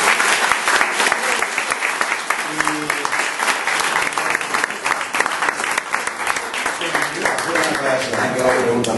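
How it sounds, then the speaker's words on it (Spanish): Applause from a symposium audience thanking the presenters, dense sustained clapping from many hands that fills the room for several seconds, with some voices mixed in. "yo les pido un gran aplauso para los expositores"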